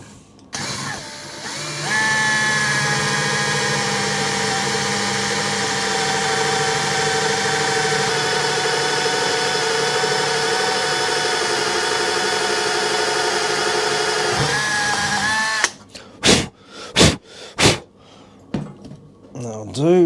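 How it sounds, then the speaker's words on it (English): A power drill bores an M6 hole straight through stacked blocks while making BMW fork covers: a steady, loud whine holds for about thirteen seconds, then cuts off into several short bursts as the bit finishes. "we'll drill the second hole straight through the blocks"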